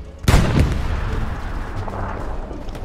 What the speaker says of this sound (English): Black Shadow just shot one very close to you and one very close to me.